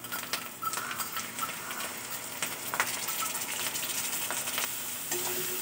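Cumin paste and chili powder masala fry in a pan while being stirred, a close, steady sizzle broken by spoon scrapes and light utensil clinks against the pot, with no talking.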